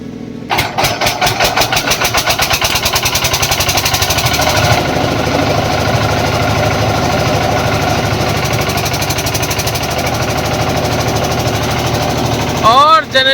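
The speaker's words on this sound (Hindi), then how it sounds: "और जनरेटर चलते ही रोशनी हो गई है" A diesel generator on a dairy farm cranks and catches within a second, then runs loud and steady with a rapid, knocking mechanical chug close by.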